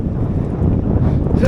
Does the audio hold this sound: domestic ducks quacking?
no